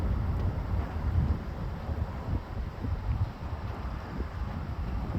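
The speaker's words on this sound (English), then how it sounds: "it means that the wind is starting to pick up more." Wind picking up during a San Antonio lightning storm, a steady low roar and rumble buffeting the microphone throughout, with no clear thunder claps.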